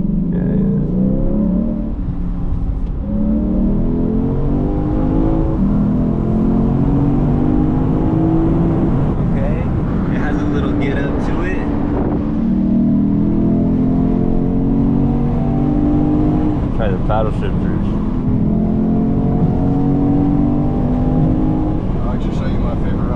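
A 2023 Lexus IS 500 F Sport engine pulls through several rising gear sweeps with active sound control on, loud and close inside the cabin, while people talk over it.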